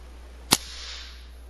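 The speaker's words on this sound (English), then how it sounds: "Daystate Air Ranger, 22 cal, shooting at 1050" Daystate Air Ranger .22 caliber PCP air rifle firing, a single sharp crack close by followed by a short fading hiss, with a quiet background before and after.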